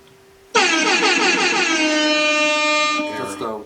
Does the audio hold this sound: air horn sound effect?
yes